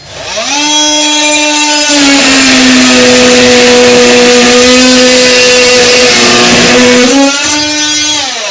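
Power saw fitted with a metal blade cutting through a wall during a kitchen strip-out, a loud, sustained whining drone that rises at the start, holds steady for several seconds, then dips and recovers near the end.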